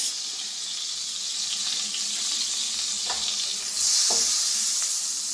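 French toast fries in a pan with a constant close hiss of hot fat, swelling louder toward the end, with a couple of faint taps and no one speaking.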